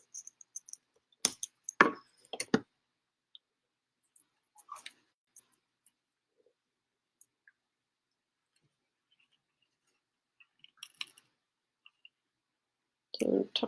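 Scissors snip a paper embellishment on a mixed media artist trading card, a few crisp close clicks and cuts in a short cluster, then quiet with scattered small handling taps and a brief voice at the end.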